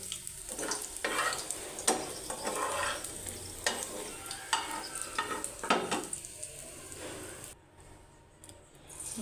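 A snack frying in a pan makes a continuous crackling sizzle, broken by repeated bursts of stirring or turning. The sound dies away briefly near the end, then resumes.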